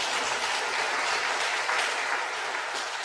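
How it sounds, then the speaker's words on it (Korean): A church congregation claps steadily and fairly loudly to welcome a guest preacher at a men's mission dedication service, a dense, even wash of applause for about three seconds with no talking. "우리 먼 길 오셨는데 박수로 환영하겠습니다."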